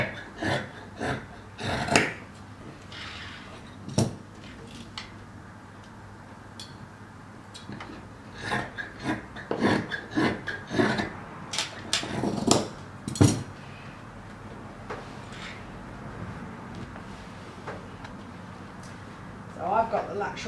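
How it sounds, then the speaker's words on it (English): Scissors cutting through fabric taken from a roll, a run of crisp snips and clicks that come in irregular clusters, with rustling cloth and occasional knocks on a table and a voice talking at times. "I'm just going to cut right through to the end of the roll"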